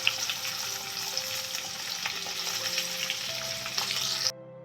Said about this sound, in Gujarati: હવે તેની અંદર આપણે ટીંડોરા છે એ આપણે એડ કરી દઈશું અને સાથે સાથે બટેટા પણ આપણે એડ કરી દઈશું